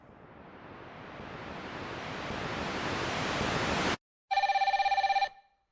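A telephone rings in an English-language radio drama, one short burst of bright, rapidly pulsing bell tone that follows a swelling rush of noise and a sudden cut to silence.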